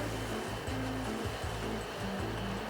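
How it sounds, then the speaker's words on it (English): A bathroom exhaust fan runs in a new townhome, a steady broadband whoosh with a low hum that continues without change and with no talking over it. "Probably can hear the fan in the background"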